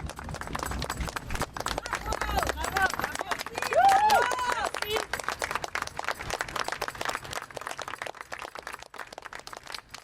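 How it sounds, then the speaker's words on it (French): An outdoor crowd greets Gisèle Pelicot's arrival at her trial with continuous scattered clapping and cheering, a dense patter of hands mixed with chatter and raised voices, fairly close and lively throughout. "Arrivée de Gisèle Pelicot au procès, sous les applaudissements de la foule."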